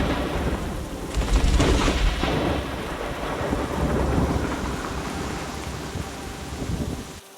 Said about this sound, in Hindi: बारिश का कहर अभी भी जारी है।